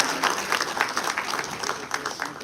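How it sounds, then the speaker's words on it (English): Audience at a memorial cricket tournament honouring a late woman, applauding and cheering steadily for a couple of seconds, dense clapping close and continuous. "we should have a big cheer for her"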